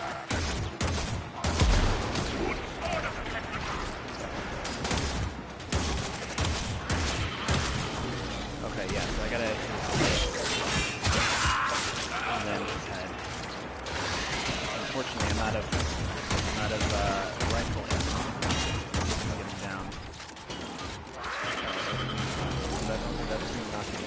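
Heavy gunfire from a large weapon in a first-person shooter, dense and loud bursts of fusillade running almost nonstop with booming impacts and mechanical clatter, talk weaving through the barrage.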